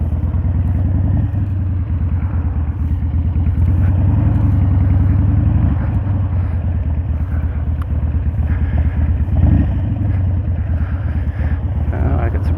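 A motorcycle riding on a road hums with a continuous low engine drone, steady and close, overlaid with wind buffeting against the rider.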